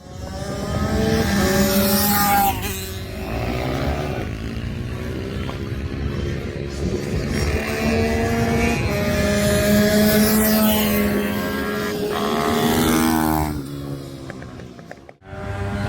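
Ohvale GP-2 mini superbike riding laps on a kart track, its small engine revving loudly and continuously with rising and falling pitch as it accelerates and shifts, close and dominant throughout.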